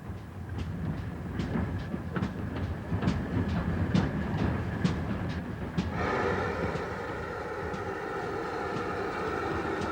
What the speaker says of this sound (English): You've got the steam trains coming in all the time.